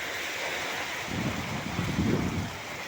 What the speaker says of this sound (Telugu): ఫుల్గా ఉంది, గాలితో వస్తుంది బాగా వాన